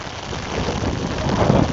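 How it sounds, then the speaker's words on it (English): Heavy rain pours steadily outside a new-build home in Cape Coral, Florida, a dense, continuous wash of noise that swells slightly louder toward the end, with no voices. "From all this heavy rain,"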